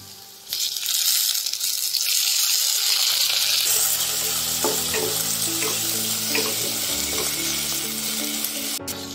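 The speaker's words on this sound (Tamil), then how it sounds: "இப்போ தக்காளி போட்டுடலாம்" Tomatoes drop into hot oil in a pan for cabbage sambar. After a brief quiet start, a loud, continuous close sizzle rises and holds, with light stirring taps underneath.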